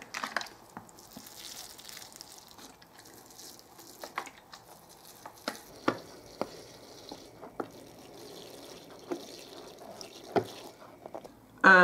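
Water from a plastic bottle with a cap punctured full of holes is poured over newly planted broad beans. It comes as faint, scattered drips and patters, with small louder splashes at uneven intervals, quiet and close, and no talking.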